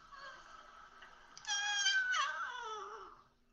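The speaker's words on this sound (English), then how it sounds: "Why do cats make that noise?" A cat gives a drawn-out meow that rises sharply partway through and then slides down before fading, heard up close and fairly quiet in a hushed room, alone without talk.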